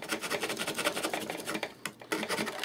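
Sanding block rubbed against the corner of a balsa model airplane part, a fast run of scratchy back-and-forth strokes up close with a brief pause near the end, no talking.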